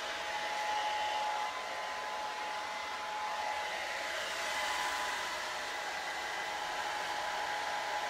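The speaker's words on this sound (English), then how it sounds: "It's actually not applying the product, it's actually drying my hair that takes the longest, because of the fact that the air coming out is not as hot" A hair dryer blows a continuous, even whoosh of air close by while drying curly hair, a steady broadband hum with no speech.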